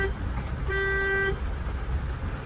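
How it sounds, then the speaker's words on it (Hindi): A car horn gives a single short honk, lasting about half a second, over low road and engine noise while a car is driven through a narrow lane during a driving lesson. "हॉर्न दीजिएगा तो साइड जल्दी करेगा"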